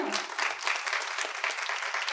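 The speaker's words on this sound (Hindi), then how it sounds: "तो अपने लिए तालियां बजाइए ना" Dense, continuous applause fills a talk audience's hall, a moderately loud wash of many hands clapping at once with no voices over it.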